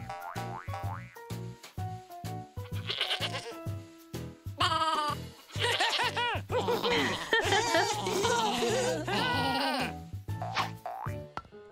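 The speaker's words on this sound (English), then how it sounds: "Goat." Goat bleats in a playful children's cartoon setting: a string of loud, wavering, nasal bleats repeated one after another, mixed with bouncy boing effects and light music.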